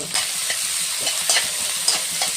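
Garlic, onion and peas fry in oil with cumin, a steady close sizzle with occasional stirring scrapes in the pan, no voices.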